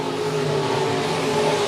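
Dirt track race cars at Monett Motor Speedway run the high side through turns three and four, a loud sustained engine roar with a slight rise toward the end, no voices heard.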